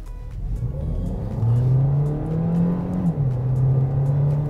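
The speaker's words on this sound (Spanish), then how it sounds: "Lo pongo en Drive, verifico que estoy en modo Sport y vamos a fondo." Kia Niro Hybrid pulling away at full throttle in Sport mode, its engine droning steadily upward in pitch, dipping briefly at a shift around three seconds, then climbing again, loud and close inside the cabin with no talk.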